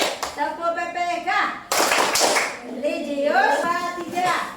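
A group in a classroom chants the rhythmic Tepuk PPK clapping routine, with voices carrying the chant and a burst of claps partway through.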